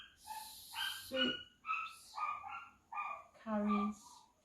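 The next-door neighbour's dogs bark in a ragged run of separate yaps and woofs, moderately close and at varying pitch, with short pauses between bursts.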